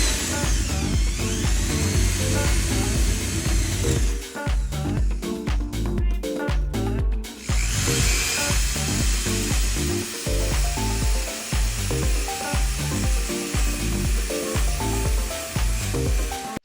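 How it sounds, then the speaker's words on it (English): A 3/8 hole saw bit drills holes through a cracked fiberglass shower pan, giving a continuous harsh whining grind with a brief stuttering break midway, close and loud throughout. "I'm going to use a 3/8 hole saw bit to drill the holes"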